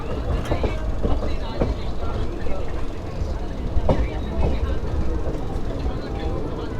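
A Gurugaon local train picks up speed, rumbling steadily with rhythmic wheel clacks and rattling carriages heard from inside, with people talking over the noise.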